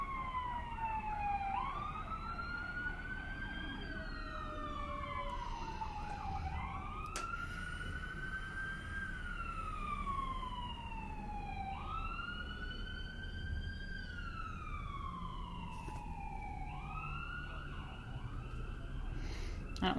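Emergency sirens wail in long rising and falling sweeps, somewhat distant and steady, over a low background rumble.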